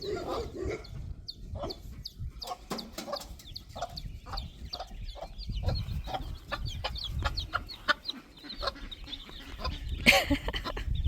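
Mother hen with chicks on a farm, clucking in a rapid series of short calls over a rustling outdoor background, fairly close, with some other animal noise mixed in.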